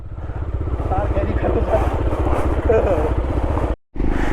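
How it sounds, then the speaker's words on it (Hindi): A Triumph Scrambler motorcycle engine running just after a jump start, a steady loud rumble throughout that cuts out abruptly near the end and then resumes. "बाइक स्टार्ट हो गई।"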